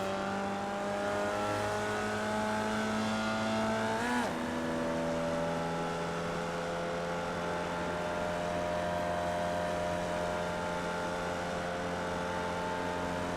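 A Formula Vee race car engine drones steadily in the iRacing sim at Virginia International Raceway, its pitch dipping sharply around four seconds as the driver lifts and brakes, then holding an even, continuous note.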